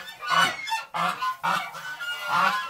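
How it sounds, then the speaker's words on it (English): A domestic goose honks four times in a row, loud and close, each call a nasal, raspy blast separated by brief pauses. "Here, little goose. No, don't make any noise."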